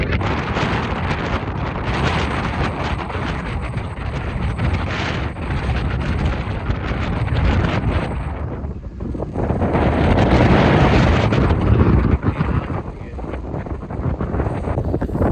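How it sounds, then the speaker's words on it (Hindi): Strong wind on the coast at Büsum buffeting the microphone in a constant heavy rumble and roar, gusting louder midway, with no clear voices above it. "ज़रा नेक्स्ट क्लिप में दिखाता हूँ कितनी तेज़ हवा चल रही है"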